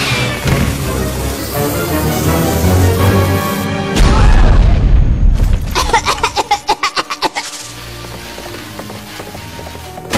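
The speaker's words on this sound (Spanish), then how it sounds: "¿Por qué unos fuegos artificiales sin probar que le compré a Trixie en un callejón a medianoche serían inseguros?" Cartoon fireworks blasting off with a deep boom and a rapid string of crackling pops, loud and chaotic over a music score.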